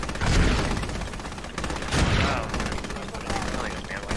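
Rapid machine gun bursts ring out in a multiplayer squad shooter, with sharp repeated cracks and booms amid constant battle noise, and a voice briefly exclaims over it.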